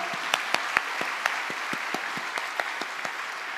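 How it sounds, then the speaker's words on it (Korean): A church congregation at a special autumn dawn revival service applauds with sparse, distinct claps over a steady wash of clapping, moderately close and fairly even throughout. "우리 큰 박수로 다시 한번 격려하겠습니다"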